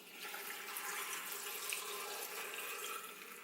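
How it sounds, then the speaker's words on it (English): Steady rushing and splashing of water being poured into a KitchenAid 5 Speed Diamond blender holding carrots and spinach, a continuous broadband hiss at even loudness for a few seconds with no talking. "Pour some water in."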